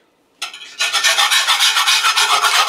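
Wire whisk stirring Alfredo sauce in a cooking pot: a few brief scrapes, then a steady run of rapid, rhythmic scraping strokes, close and loud, with no talking.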